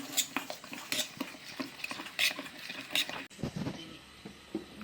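Flour dough being mixed with oil in a bowl: soft, irregular scraping and clinking strokes at close range, fairly quiet, with no talking.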